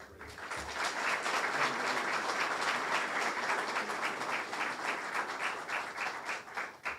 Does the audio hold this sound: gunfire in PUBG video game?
no